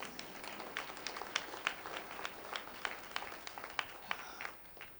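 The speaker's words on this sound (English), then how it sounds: "clap again, please" An audience at a talk on racism applauds with a dense spread of many hands clapping, sustained and steady before fading toward the end, heard from within the room.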